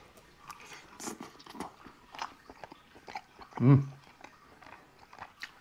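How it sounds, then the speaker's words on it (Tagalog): Chewing on a forkful of creamy chicken pasta, soft mouth sounds with one louder close bite midway, under quiet background chatter and scattered clicks. "tikman na natin tong niluto nating pasta, chicken pasta"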